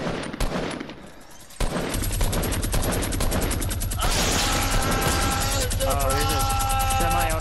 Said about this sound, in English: Do I need to destroy anything with my minigun?